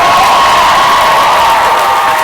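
An audience at a diversity monologue show claps and cheers for the performers, making a loud, dense wash of applause with shouts and whoops running throughout.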